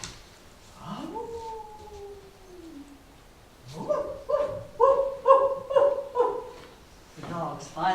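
Two hounds, Boone and Lena, bay in long drawn-out howls, one sustained call followed after a pause by a run of loud, rhythmic baying notes, close and clear with no talk over them.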